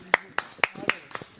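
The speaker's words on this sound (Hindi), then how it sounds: "चलो भाई, तालियां हो" Several sharp, separate hand claps ring out close by at a roughly even pace, six in quick succession, as a small group applauds on a reality show set.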